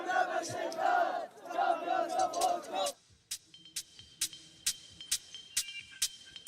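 An esports crowd at a Street Fighter event roars and chants loudly for about three seconds, then cuts to quieter sharp claps or bangs at a steady pace.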